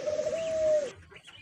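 A single close, clear coo from a pet pigeon kept at home holds smoothly for under a second, then falls away into quiet with a few faint rustles.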